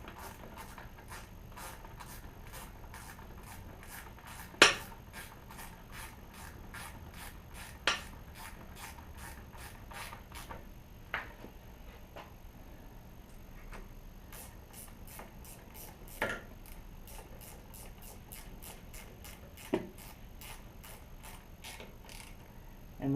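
A ratchet wrench tightens the water pump housing bolts on a Yamaha F250 outboard, giving rapid, quiet clicking runs close by, broken by brief pauses and a few sharper knocks.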